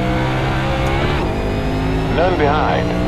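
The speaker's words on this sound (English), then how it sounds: "One car approaching." A race car approaches in a sim racing game, engine note rising and sweeping in pitch over a steady engine drone, with a voice talking over it.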